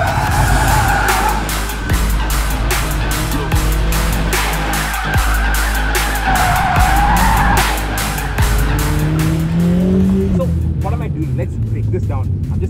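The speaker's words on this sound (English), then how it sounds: "give it a boot full of gas, that gets the rear unstuck" A 2022 Mercedes-AMG A45 S is drifting, with loud, sustained tire squeal and skidding over a revving engine, swelling and easing in repeated bursts as the car slides.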